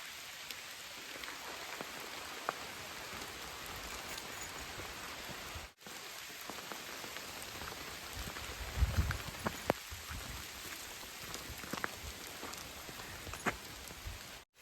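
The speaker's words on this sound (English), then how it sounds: "I don't mind walking in the rain." Steady rain patters on a forest trail and the hiker's gear, dense and even throughout with scattered close drops, broken by a brief gap near the middle.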